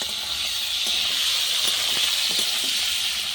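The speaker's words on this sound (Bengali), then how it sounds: "তো পেঁয়াজ আর আলু একসাথে ভাজানো হয়ে যাবে।" Onion and potato frying in oil on a clay stove, a steady broad hiss with a few faint clicks, close and continuous with no voices.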